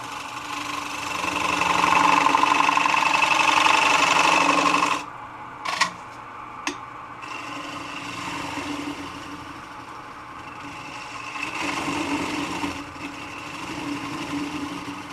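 A wood lathe turns a bowl while a spindle gouge cuts, a steady whirring hum with a louder cutting stretch at the start, then a pause with a few clicks before the cut resumes more quietly.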